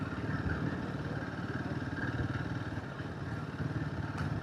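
A motorcycle engine runs steadily on a ride from the hills of Nainital toward Bareilly, a continuous close rumble with a faint clattering texture and wind noise, no voices.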